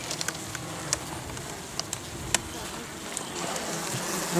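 Honeybees buzz in a dense, continuous hum close by at a hive split, with scattered soft taps and rustles over the steady drone.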